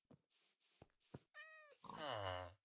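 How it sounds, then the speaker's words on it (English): A white cat in a cosy survival video game gives two quiet meows, the second longer and drawn out, after a few soft clicks. "There's a white cat."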